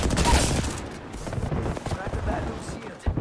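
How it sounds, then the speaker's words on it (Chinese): Rapid automatic gunfire in the Apex Legends video game: dense, loud bursts of shots crackle almost continuously, with brief gaps, punchy impacts and a final sharp report near the end. "Opening fire on the enemy"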